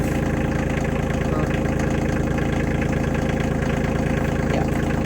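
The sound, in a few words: farm tractor engine idling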